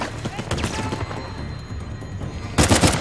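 Gunfire in the video game Uncharted: The Lost Legacy, rapid bursts of shots rattling close and loud, with a heavier cluster of blasts near the end.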